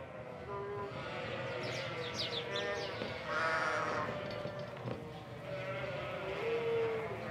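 A flock of about 800 ewes, mostly of a local breed, bleats on a farm in Cantal, France, with several overlapping calls of varying pitch against a soft background.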